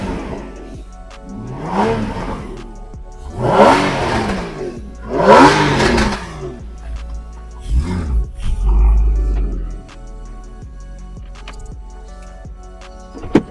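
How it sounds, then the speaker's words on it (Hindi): A sports car exhaust roars through a few loud revs on a cold start, rising and falling, settling into a deep idle between bursts. "I'm going to start this car just for you just focus on the exhaust tip to hear the sound"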